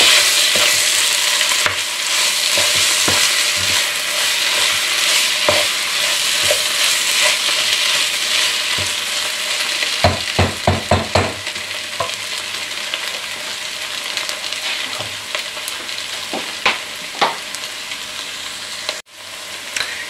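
Flour stirred into onions in a pot for onion soup, a loud continuous sizzle with a quick run of spoon knocks and scrapes against the pot midway, close up and without speech.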